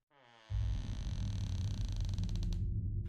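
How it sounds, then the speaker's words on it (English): An old door lock clicks open and turns into a long, low, grinding groan that resonates as though through an empty building, close and loud, ending with a faint rattle. "The lock clicked open with a groan that echoed through the building"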